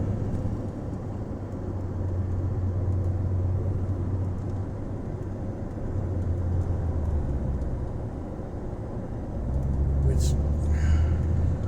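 A camper van drives along the road with a continuous low engine and road rumble from inside the cab, rising and easing slightly, while a voice talks over it.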